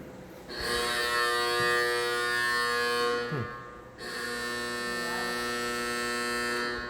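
A loud, steady manually pushed building buzzer in an old county infirmary drones for a few seconds, cuts off briefly, then buzzes again in a long second burst with an echoey ring.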